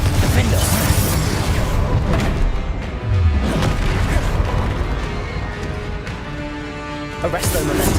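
In Hogwarts Legacy combat, a Confringo spell bursts among other spell effects, its booms buried in a loud, dense, continuous din of crashes and magical noise.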